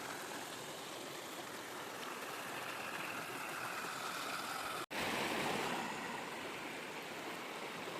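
A river runs between large rocks in a constant, fairly quiet rush of flowing water, broken by one very brief dropout midway, with no voices.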